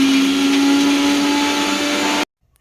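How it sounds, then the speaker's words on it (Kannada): A kitchen mixer grinder whirs steadily as it grinds roasted gram, cumin, garlic, tamarind and salt into a soft paste for masala dosa, a loud continuous motor drone that cuts off abruptly near the end. "ನೋಡಿ ಇದನ್ನು ಸಾಫ್ಟ್ ಆಗೋಗೆ ರುಬ್ಬಿದ್ದೀನಿ"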